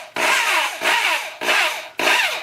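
A drill slowly drives a hanger bolt into a natural wood branch perch, producing four loud, even rasping bursts of grinding and creaking, each with a short gap between.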